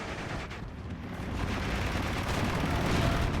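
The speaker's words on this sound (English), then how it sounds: "Half-track just firing on those to keep them pinned." Half-track machine gun fire in Steel Division, heard as a steady wash of battle gunfire. The rattling bursts build slightly louder toward the end, with no voices over them.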